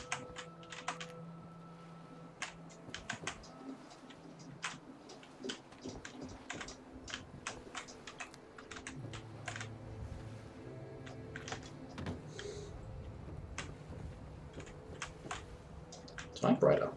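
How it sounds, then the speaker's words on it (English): Typewriter keys in Fallout 4 clacking in irregular quick strikes, soft and close, with a few pauses, over a quiet hum of ambient game background and faint low tones. "Typewriter."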